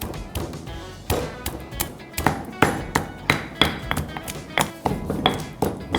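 Garlic cloves are pounded with rock salt in a mortar, giving a steady run of sharp, close knocks and thuds at a regular rhythm, each followed by a short gritty crunch.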